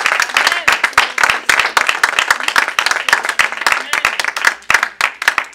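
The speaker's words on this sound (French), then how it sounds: "acclame le Seigneur" Congregation at a church gathering clapping loudly and continuously, dense overlapping handclaps with a few cheers mixed in, close and energetic throughout.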